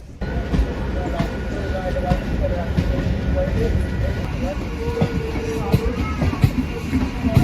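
Steady rumble of a moving train with rattling carriages and occasional clacks, with people talking faintly in the background.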